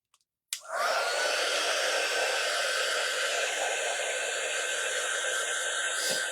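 A hair dryer clicks on after a short silence and runs at a steady, loud, close whir to dry a Halloween tree craft project, uninterrupted by talk.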